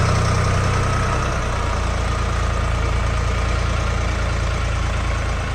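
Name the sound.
Jinma 244 tractor with cab engine idling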